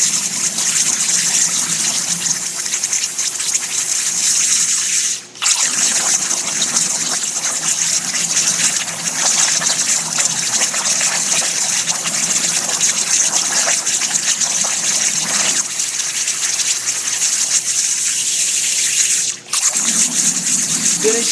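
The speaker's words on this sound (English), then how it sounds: "the air from the plasma cutter will actually blow the water out of the way" Underwater plasma cutter on a burn table cuts metal lettering, giving a loud, continuous gushing, bubbling hiss of air forced through water, broken by two brief drops in sound.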